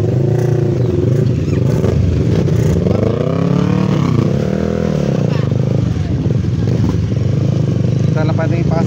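A motorcycle engine runs close by with rising and falling revs at night in a town plaza in Rizal, mixed with street noise and people talking throughout.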